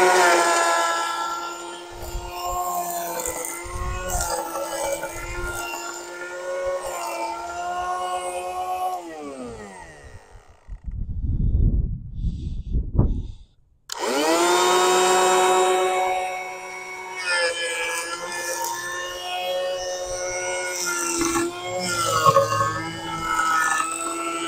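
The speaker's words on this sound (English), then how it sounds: "This is a little Ryobi planer." A small Ryobi power planer shaves sapwood off a black locust log in two long, loud whining runs. Between them the motor spins down into a short quieter gap, then the planer revs back up.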